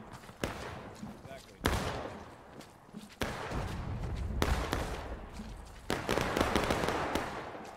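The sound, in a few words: massed musket gunfire in the video game War of Rights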